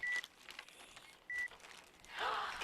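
Two short, soft electronic beep tones from a hearing test sound clearly against a quiet room, with a brief rustle of movement afterward.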